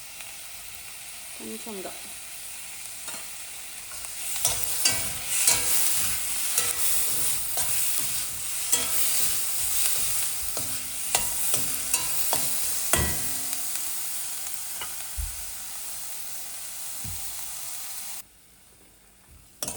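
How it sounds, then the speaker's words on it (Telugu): Tomatoes cooking in oil in a pan for bottle gourd and black-eyed bean curry, a continuous bright sizzle with scraping stirs, briefly under a few spoken words, cutting off near the end. "టొమాటో కూడా అంతే, బాగా ఆయిల్లో మగ్గనివ్వాలి"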